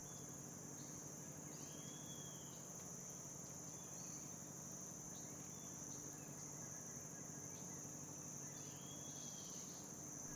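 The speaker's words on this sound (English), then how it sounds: "Crickets and cicadas are well known for their chirping and buzzing" Crickets chirp in a steady, faint, continuous trill outdoors, with no voices present.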